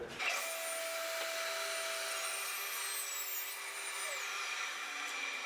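A board is ripped lengthwise on a saw, a continuous high whine that starts abruptly and holds steady for several seconds, moderately loud with no speech.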